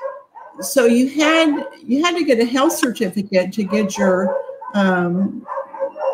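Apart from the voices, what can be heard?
dog barking at stray dogs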